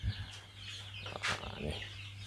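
Chickens in a day-old chick cage on an Indonesian farm cluck and chirp softly at a distance, with steady background hum and no talk.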